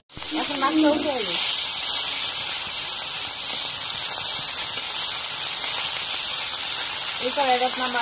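Fish fry in oil in a wok, a steady, loud crackling sizzle running throughout, with a voice speaking briefly at the start and again near the end.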